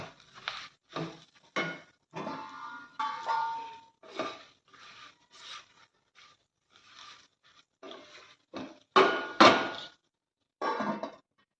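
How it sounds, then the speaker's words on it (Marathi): Metal pans and lid clatter in short, separate bursts of clinks and knocks as a pan of okra with curd masala is covered, with brief silences between each handling sound. "त्यात मी झाकण ठेवते त्याच्यावर"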